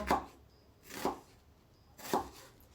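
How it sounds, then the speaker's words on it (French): A knife chops garlic lengthwise on a cutting board in three evenly spaced, close, firm strokes, with no talking over them. "Donc je le coupe dans le sens de la longueur."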